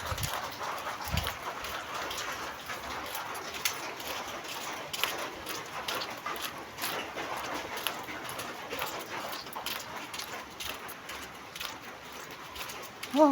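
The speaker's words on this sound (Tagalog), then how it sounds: "Lakas ng ulan. Grabe, umulan na naman." Steady hiss of heavy rain pouring continuously, a dense even wash of sound with no voices over it.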